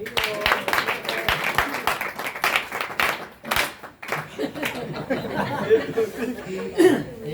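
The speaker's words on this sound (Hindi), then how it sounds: "इनके लिए 3 बार ताली बजाओ" Audience at a Harinam Sankirtan gathering clapping in a few sharp rhythmic bursts, mixed with chatter and chuckles close by in a lively hall, with people talking.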